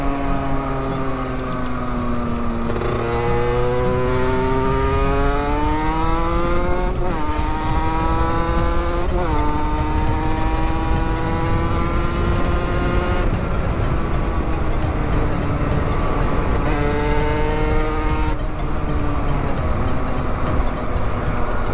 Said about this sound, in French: Le carbu est mal réglé, mais la moto tourne correctement quoi.